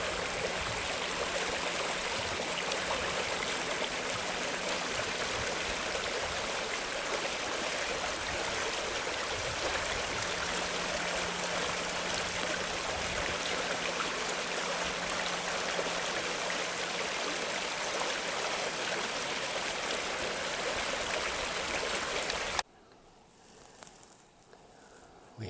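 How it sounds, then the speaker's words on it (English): Rapids on Hay Creek beside the falls rush in a steady, loud, continuous roar of churning water that holds throughout, then drops abruptly near the end to a quiet, distant murmur. "Makes for an interesting area here by the falls. Or the rapids, I mean."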